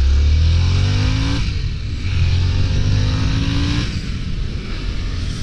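A 2023 Harley-Davidson Sportster S motorcycle accelerating hard in sport mode, its loud engine rising in pitch through two gear changes, close and continuous with wind noise.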